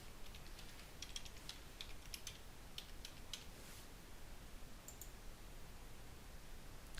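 Someone types a password on a computer keyboard, giving a quiet patter of light key clicks in short irregular bursts over a faint, steady background hiss.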